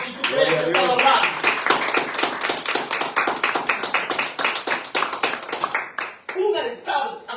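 A church congregation claps rhythmically in praise to God, a rapid, fairly regular run of sharp hand claps, with a voice speaking over the clapping.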